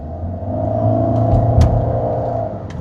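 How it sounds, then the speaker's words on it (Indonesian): A Toyota Veloz Q HEV hybrid car accelerates with a steady low rumble and a faint rising electric-motor whine, with a few soft clicks over the top. "Ada suara motor listriknya tuh."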